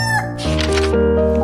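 A rooster crows once in a single loud, close call lasting about a second and a half.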